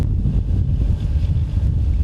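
A Korean anchovy fishing boat under way at sea in wind and rain, with a steady, loud low rumble of engine and wind buffeting and no pauses or talk.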